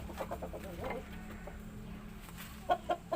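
A Pamangon breeding rooster and hen cluck nearby, with soft scattered clucks early on and then three sharp, evenly spaced clucks at the end.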